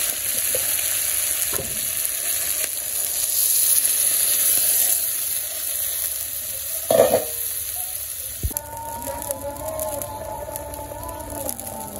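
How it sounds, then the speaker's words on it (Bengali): Vegetables frying in a pan during simple village cooking, with a steady loud sizzle and stirring scrapes, then a sharper hissing burst as water is poured in, settling into a bubbling simmer. "কষানো এগুলো জল দিয়ে দিব। আমার সবজি কষানো হয়ে গেছে,"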